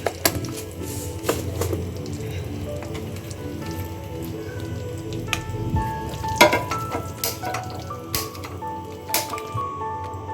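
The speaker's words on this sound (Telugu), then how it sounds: "పోపు కలిపేస్తున్నాను చూడండి" Tempering of cumin and mustard seeds, with coriander leaves and asafoetida, sizzles and crackles steadily in hot oil for a cucumber-tomato chutney, with scattered pops and stirring clinks close by, no talk.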